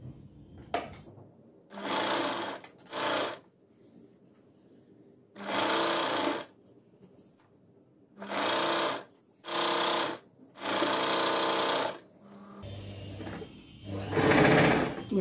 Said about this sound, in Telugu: ఇక నేను స్టిచ్ చేసేస్తున్నాను.